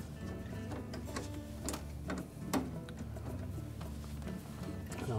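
Screws are driven into a Whirlpool refrigerator housing, giving a run of close mechanical clicks, ratcheting ticks and short whirs over a steady low hum, with a sharper knock near the middle.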